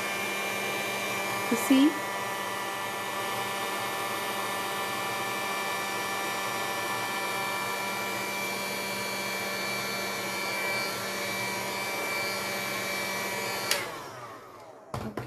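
A hair dryer blows steadily over a painted MDF panel, a loud close constant whooshing whir with a tonal hum that runs throughout before cutting off near the end; a voice speaks briefly, and a few small knocks sound.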